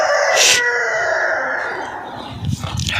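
A rooster crows once, fairly close, with a steady outdoor hum and some faint clucking or rustling toward the end.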